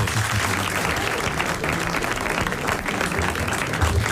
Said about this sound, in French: Nous l'applaudissons. Bravo, le Polonais.